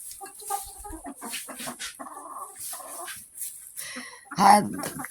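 Chickens in a backyard coop shed cluck and rustle faintly, with a louder squawk near the end, while a person talks over them.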